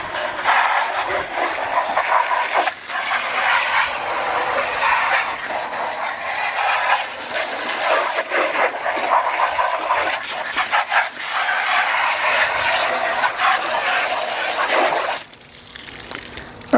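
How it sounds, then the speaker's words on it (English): A water sprayer hisses loudly and steadily as a hydroponic NFT channel is hosed off for cleaning, a continuous broadband spray with slight surges that stops abruptly near the end. "the first thing I do is I basically spray it off."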